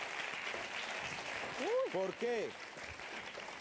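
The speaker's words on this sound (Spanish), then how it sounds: "Un aplausito fuerte." An audience in Talayuela, Extremadura, claps loudly on cue, a broad burst of applause with a voice calling out over it midway.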